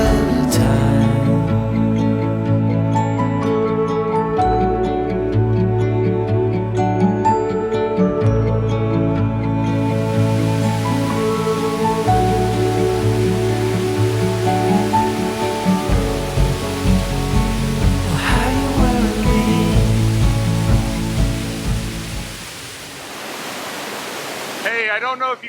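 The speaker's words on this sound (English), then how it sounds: "These falls would have been dry all summer, and now they are absolutely roaring." Wise Falls thunders as a full, roaring waterfall after rain, a dense continuous rush heard close up beneath layered music.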